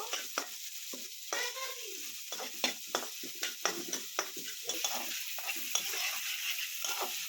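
Sliced onions crackle gently in hot fish oil while a spatula stirs and scrapes the pan in repeated light strokes over a steady low sizzle, with no talking.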